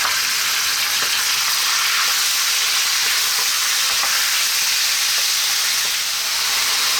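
Meat frying in a pan with spices, a steady, loud broadband sizzle running continuously and close up, with faint stirring scrapes now and then and no talk.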